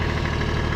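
Tractor engine idling on steep ground, a close, loud, even rumble with a fast knocking pulse for under a second.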